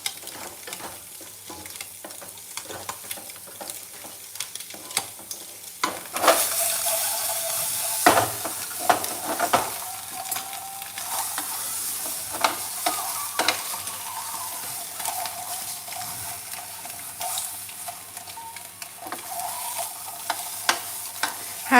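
Egg curry simmering and sizzling in a pan, a steady frying hiss with stirring scrapes that grows louder partway through, no talking.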